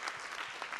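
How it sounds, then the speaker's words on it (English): A round of applause from an audience gathered at an expanded-learning event, dense steady clapping filling the whole short moment with no voices. "So I just want to give a round of applause to all our males that's here being supportive for this whole thing."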